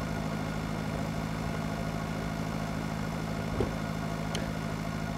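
Fully loaded tractor in Pure Farming 2018, its engine labouring in a steady low drone with no letup and a faint click partway through.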